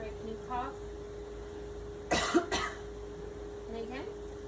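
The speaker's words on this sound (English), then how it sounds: "Alright, can you cough?" A patient coughs during a medical exam with a clinician listening at the back, one short, sharp burst in a quiet room, between faint bits of speech.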